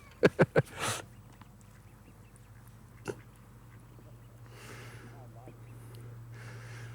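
Ducks on a riverbank quack in a quick burst of three loud calls near the start, squabbling over dropped bait, then a lone quack later over a steady hum, with a voice.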